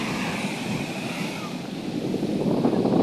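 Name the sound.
Atlantic Ocean waves and wind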